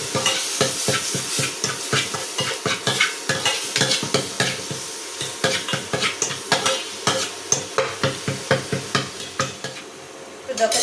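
Jackfruit seeds and drumstick leaves are stir-fried in a pan, with a spatula scraping in quick regular strokes over a constant close sizzle; no voices.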